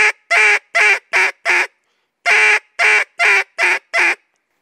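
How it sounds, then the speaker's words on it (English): Duck call blown in a greeting call cadence: loud, close, rhythmic quacks in two runs of five evenly spaced notes separated by a short pause, with no talk. "a greeting call is going to be the call that you use the most often in your cadences"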